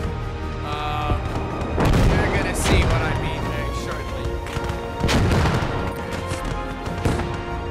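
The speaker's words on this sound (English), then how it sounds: "The notorious 210 millimeter cannons. Those things are absolutely devastating." In a video game, heavy booming 210 mm cannon blasts go off in a few spaced volleys, deep and rumbling, with gunfire and battle noise continuing between them.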